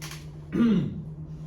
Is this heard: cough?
yes